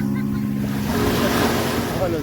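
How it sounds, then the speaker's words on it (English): Ocean waves and surf rolling near a beach in Dubai, a steady loud wash with wind noise and a low motor drone of a jet ski or boat underneath. "How blue is this ocean?"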